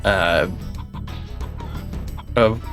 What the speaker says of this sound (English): So in this one they're chickens